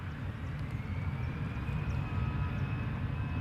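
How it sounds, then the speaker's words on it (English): An EasyJet Airbus A320 departs Schiphol Airport for Manchester, its jet engines a steady, distant roar with a deep rumble throughout. "EasyJet flight 22162 to Manchester, A320"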